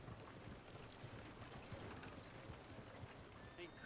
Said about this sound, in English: It's hard getting these horses going when you're in mission.